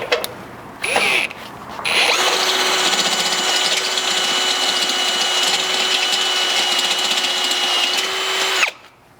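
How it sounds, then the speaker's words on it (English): A power drill whines steadily at close range, drilling a hole out to 7/16 inch on a third-generation Toyota Sequoia, starting after a couple of brief bursts and then winding down abruptly at the end. "we'll come back here to this rear hole and drill it out to 7/16"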